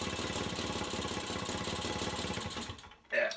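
A 1967 Mobylette AV 49 moped engine runs at a fast, even putter close by, then cuts out near the end, followed by a short burst of other noise.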